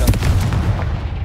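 A Confringo fire spell in Hogwarts Legacy lands as a single loud, close booming blast with a sharp initial crack, then a short rumbling decay.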